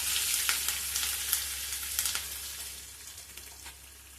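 Tempering spices with dried red chillies and curry leaves crackle and sizzle in hot oil, with sharp pops over a steady frying hiss that gradually settles and fades.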